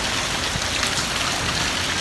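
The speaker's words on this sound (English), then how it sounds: "It's literally pouring." Heavy rain pours down in Los Angeles, a dense, continuous hiss of drops striking surfaces, loud and unbroken with no voices.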